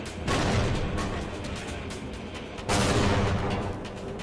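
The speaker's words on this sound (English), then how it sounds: "Grenade!" A grenade blast in a shooter video game, loud and rumbling, with sustained heavy booms and crackling debris swelling in two waves.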